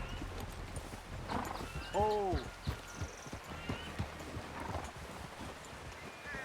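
Hooves clop steadily while a horse gives a brief whinny partway through, with a short spoken exclamation and soft background noise, in the video game Red Dead Redemption 2.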